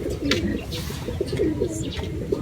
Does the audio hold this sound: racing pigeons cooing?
yes